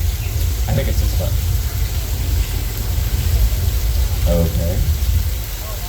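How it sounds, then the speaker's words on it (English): Artificial rain effect pouring down steadily as a loud, continuous hiss throughout, with someone speaking briefly over it. "So I'm just gonna turn off this rain and we'll be on our way."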